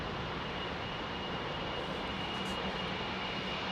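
Jet airliner engines with big carbon fan blades roar at a steady, moderate level near a London airport, a broad even rush with no voices.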